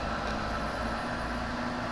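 Truck engine straining as it drives through mud in SnowRunner, a steady loud rumbling drone with a constant low growl and no breaks.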